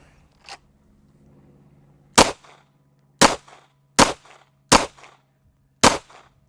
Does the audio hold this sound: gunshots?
yes